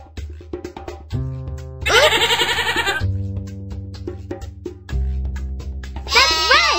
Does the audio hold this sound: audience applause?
no